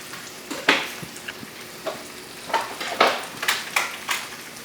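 Butter and olive oil sizzle in a pan for a stir-fry with rice beetroot noodles, bok choy and beech mushrooms, a soft steady frying hiss broken by intermittent scraping stir strokes, close and fairly quiet.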